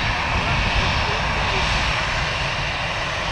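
A jet airliner's engines roar steadily as the flight departs Manchester Airport for Oslo, a broad, continuous rumble with no break.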